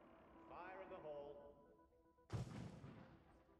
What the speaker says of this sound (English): That was a spawn explosion.